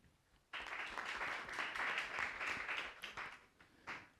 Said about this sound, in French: je pense que vous pouvez m'aider à applaudir sur les grands accomplissements de cette université